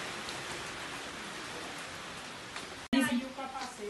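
Rain falls as a steady, close wash of noise on an outdoor surface, with a sudden louder burst near the end as other sounds join in.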